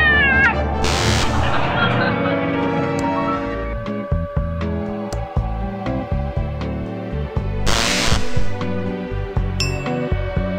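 A cat meowing on a TV in the adventure game Thimbleweed Park, two clear drawn-out meows at the start and near the end, set against chiming game music and clinking effects.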